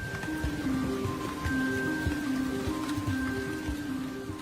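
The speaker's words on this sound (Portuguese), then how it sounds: "Trilhões de litros de água caem do céu" Monsoon rain pours down steadily in India, a dense, continuous wash of falling water with scattered drops, under a faint musical tone, with no voices.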